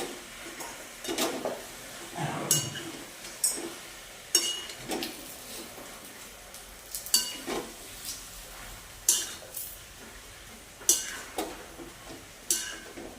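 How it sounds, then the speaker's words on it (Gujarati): Spices being stirred into a pan of palak paneer, a series of soft clinks and scrapes from a utensil against the pan in an irregular rhythm, close but fairly quiet, with no talking. "મસાલા નાખીને હવે મિક્સ કરી દઈએ."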